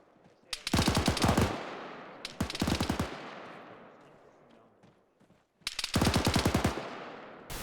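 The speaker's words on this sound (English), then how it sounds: "I think the machine guns engaged effectively" Machine guns fire in three sharp, rapid bursts, each a fast string of loud shots. The first two bursts sit close together, and a longer third burst comes after a pause filled with fading echo and rumble, with no talking over it.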